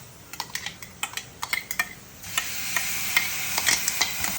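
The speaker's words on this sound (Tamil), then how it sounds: "ஆனியன் நல்லா வெந்த உடனே நம்ம இஞ்சி பூண்டு பேஸ்ட் போட்டுக்கலாம் 1 ஸ்பூன்." Onion with ginger garlic paste fries in a pan: sharp clicks and scrapes of a spoon stirring against the pan, then a louder steady sizzle rises as the mixture cooks, with stirring taps continuing over it.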